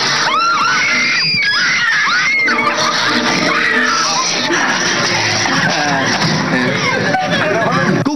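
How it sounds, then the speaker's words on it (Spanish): A woman screams repeatedly inside a haunted house attraction, loud and close, piercing cries mixed with other shrieks, laughter and crowd babble. "Lo que me asusta son sus gritos de ella"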